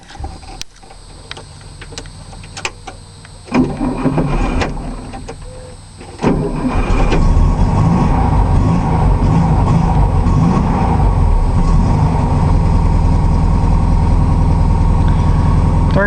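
A 1960 Volkswagen Beetle with its 36-horsepower engine is cranked with a few clicks and brief attempts, then catches around six seconds in and settles into a loud, steady idle that runs to the end.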